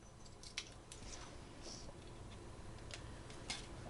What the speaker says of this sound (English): take your scissors and you're going to cut like a triangle shape